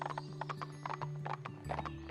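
Hooves clip-clop in a steady rhythm over a low sustained tone in the Barbie Wild Horse Rescue video game, with a spotty horse moving close and clear and a faint whinny touch; no one speaks.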